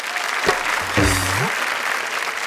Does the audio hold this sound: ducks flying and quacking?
no